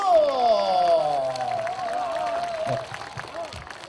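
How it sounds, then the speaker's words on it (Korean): A festival crowd applauds and cheers for a middle school student band at an outdoor music festival, loud and sustained, with a voice ringing out over the clapping before it settles down. "여러분 큰 박수로 음악 청합니다. 박수!"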